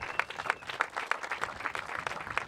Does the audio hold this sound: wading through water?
no